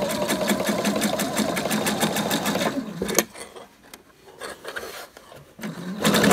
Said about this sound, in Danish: Og så syr vi ned over alle elastikkerne